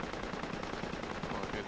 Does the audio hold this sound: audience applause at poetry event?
no